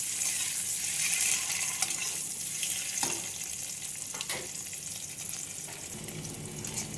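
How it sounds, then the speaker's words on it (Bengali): Eggs fry slowly in oil over a low flame, giving a soft, even sizzle with faint crackles and a couple of light utensil taps, nearby and fairly quiet. "আরও দুটো ডিম একদম লো ফ্লেমে আস্তে আস্তে ভেজে নেব।"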